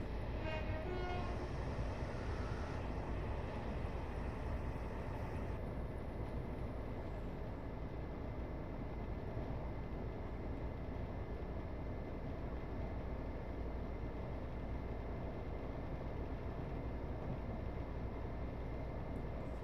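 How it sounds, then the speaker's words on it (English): A train in a video game, a Great Western Main Line local service from Oxford to Reading, rumbles past at a steady, moderate level, with a brief horn-like tone near the start, then a continuous rolling drone with no talking. "We have a train coming packed into Oxford."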